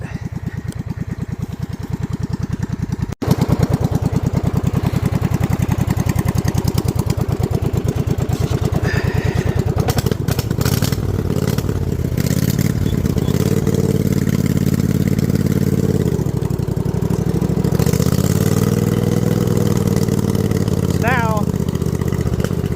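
A throttle-modified snow mower engine running close and loud as it is driven around in snow, a rough idle that rises and falls as the throttle changes, with a voice faintly under it.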